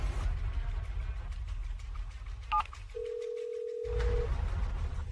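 Telephone call being placed: a few quick dialing beeps, then a steady ringback tone holding for over a second, close and clear over low background rumble, with no talking.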